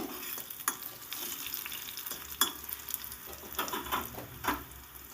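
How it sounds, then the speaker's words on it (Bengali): Eggplant pieces frying in oil in a pan, a soft steady sizzle with a few sharp clicks and spatula scrapes, fairly quiet and close with no talking. "দেখুন বেগুনটা লাল করে ভাজা হয়ে গেছে"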